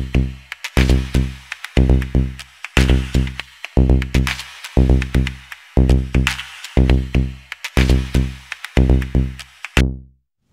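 A Logic Pro live loop cycles with a 1.5-bar cell length, repeating a loud, punchy drum-and-bass pattern in tight, evenly spaced bursts for about ten seconds before cutting off abruptly.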